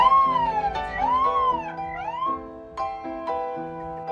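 A boy imitates a police siren with his voice. He sings rising and falling wails, then switches to a steady two-tone hi-lo pattern. The sound is loud, close and clear, with no other sound behind it.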